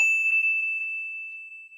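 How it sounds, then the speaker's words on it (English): A single bright notification bell ding rings out clearly at the start and sustains as a steady pure tone, slowly fading across the short stretch with nothing else heard. "tinkle that little bell"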